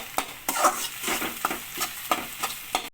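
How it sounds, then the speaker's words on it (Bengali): Chowmein noodles tossed with chowmein masala are stirred in a hot pan, a continuous sizzle broken by rhythmic scraping strokes of the spatula, close and steady, with no talking. "এবার এটাকে ভালো করে নাড়তে হবে"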